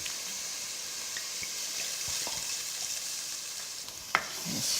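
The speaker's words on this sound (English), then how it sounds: "So now we can just add our stock and our red wine." Stock and red wine being stirred into a hot pan for beef burgundy, a soft steady sizzle with faint scraping of a spoon and a small clink near the end.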